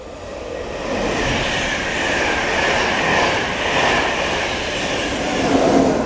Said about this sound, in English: Pass through now will be an LNER Intercity 225 set from Leeds through to